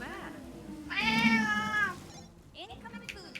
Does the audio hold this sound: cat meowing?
yes